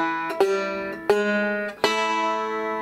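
A banjo plays pinched notes on the third and first strings in the Salt Creek lick, three bright plucked attacks spaced about a beat apart, each ringing out with metallic, twangy sustain.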